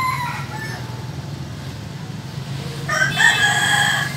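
A fighting rooster crows loudly and close by near the end, a long rising-and-held cock-a-doodle-doo over a steady low background hum, after quieter clucking and bird sounds earlier.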